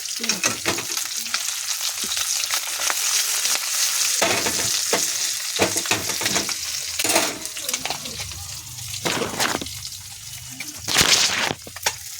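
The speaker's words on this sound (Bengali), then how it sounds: "খয়রা মাছটা কিছুটা ভাজা হয়েছে" Khoira fish sizzles loudly in hot oil in a village kitchen, a dense crackling spatter with bursts of louder popping and faint voices in the background.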